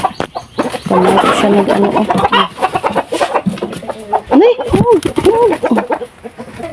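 Pet chickens clucking near feeding time, a series of close, loud clucks and short calls mixed with brief spoken exclamations from a woman.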